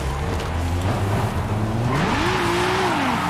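A wide-body Toyota Supra in Forza Horizon 5 roars loudly and continuously, its engine note rising and falling through revs with tire noise underneath, close and steady throughout.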